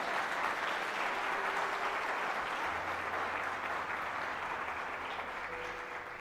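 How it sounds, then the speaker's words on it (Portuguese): Congregation applauding during an evening church service, a steady, dense wash of clapping that holds for several seconds and fades slightly at the end, with no speech over it. "Dá para você dar uma salva de palmas para Jesus?"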